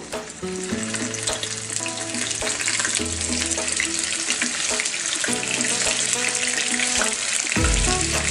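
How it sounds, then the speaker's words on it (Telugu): Paneer shallow frying in oil in a pan, a dense loud crackling sizzle that runs steadily throughout, with occasional stirring scrapes and a low clunk near the end, close up and without speech. "పన్నీర్ కొంచెం షాలో ఫ్రై చేసుకుందాము"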